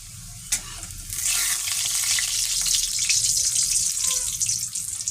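Paneer frying in a pan until light brown for chilli paneer, a steady hiss of sizzling oil that swells in after a brief knock and continues evenly, close and alone.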